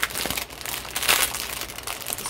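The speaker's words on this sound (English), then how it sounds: "Let's just open this one package here" A crinkly plastic package is torn open close by. It gives continuous loud crumpling and crackling with no talk.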